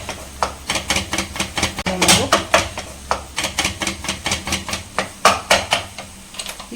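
A knife chops almonds, cashews and pistachios on a board for bread halwa, giving a steady run of close, crisp taps with a brief louder burst partway through.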